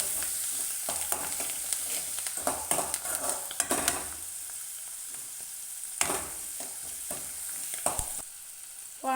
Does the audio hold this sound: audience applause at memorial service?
no